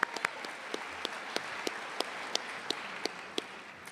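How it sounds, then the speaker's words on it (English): A sparse scattering of claps rings out at a university commencement ceremony, a few hands applauding students from the University of Texas Permian Basin, the individual claps spaced irregularly rather than forming a dense ovation. "Give another round of applause for the very talented University of Texas Permian Basin students."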